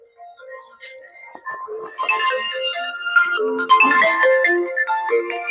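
A phone ringtone plays a bright, twinkling electronic melody that starts softly and grows louder, a run of quick tuneful notes with no one talking over it.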